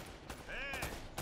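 Gunfire from the Uncharted video game, a short burst of shots over a steady game background, with harmonic tonal sounds sweeping through the middle of the moment.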